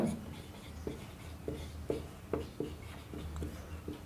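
Pen or chalk writing out a maths word problem solution, a series of short scratchy strokes and taps at an irregular rhythm, close and fairly quiet, with no talking.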